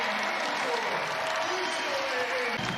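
A college women's basketball arena crowd on senior night for #2 UCLA against Wisconsin keeps up sustained cheering and applause, a dense roar at steady loudness with no break.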